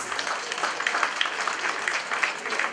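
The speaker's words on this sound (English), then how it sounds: "Can you please give her a round of applause?" Audience at a 50th birthday celebration applauds the celebrant, a fairly quiet, brief patter of clapping with uneven peaks throughout.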